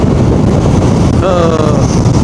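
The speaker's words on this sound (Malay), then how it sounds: "Angin sangatlah kuat." Strong gusting wind buffets the microphone during a motorcycle ride on a highway heading south, a loud continuous rushing roar with a brief faint tonal whine partway through.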